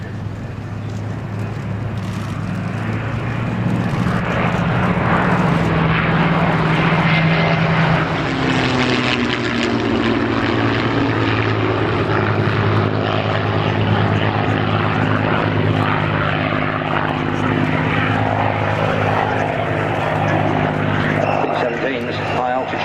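The B-17 Flying Fortress Sally B flying with its turbo-supercharged Wright Cyclone radial engines, a loud sustained propeller drone that swells as it passes and holds steady, with a voice talking over it.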